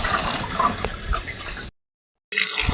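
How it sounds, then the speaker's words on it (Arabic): Green peas are washed under a running kitchen tap, with a loud, steady splash of water that cuts out briefly before resuming. "انا بغسل البسله"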